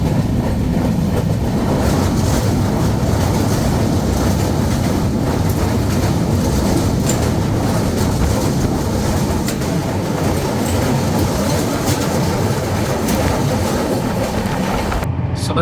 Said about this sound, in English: So the train is performing a fantastic run